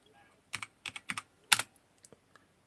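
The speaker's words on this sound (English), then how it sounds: "See my loud clicky keyboard." A loud clicky computer keyboard is typed on in short, irregular bursts of sharp clacks, close up, with brief pauses between keystrokes and no talking.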